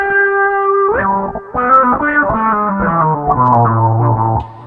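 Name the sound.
Roland hex fuzz guitar through external auto wah pedal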